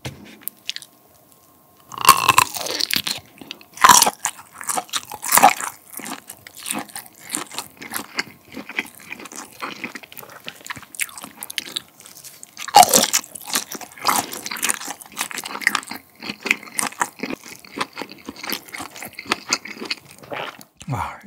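Water-fried Uiseong garlic sausage is bitten and chewed up close, with crisp snapping bites and repeated moist, squishy chewing in irregular bursts.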